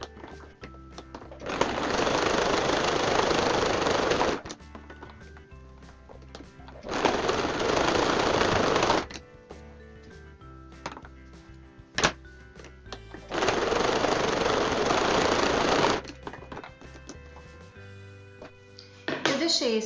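A sewing machine runs a zigzag stitch around the edge of a small glasses case, in three steady bursts of whirring needle motion separated by short pauses, close and clear with quiet handling between runs.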